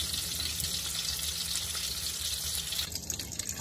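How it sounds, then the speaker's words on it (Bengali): Mirgel fish frying in a pan, a continuous close hissing sizzle with a watery bubbling texture that briefly eases toward the end, with no voices. "এখানে আমি সব মাছ দিলেছি। এখন আমার 10 মিনিট আমি ফ্রাই করবো"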